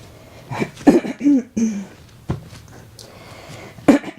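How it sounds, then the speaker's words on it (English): A woman in a live yoga class coughs and clears her throat in several short, close bursts, with a couple of soft thuds and gaps between the fits. "Morning cough."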